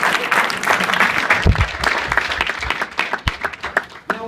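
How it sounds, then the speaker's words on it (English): An audience applauds the volunteers of a stage hypnosis show, a loud dense burst of clapping that thins into scattered claps toward the end. "Give these guys a big round of applause."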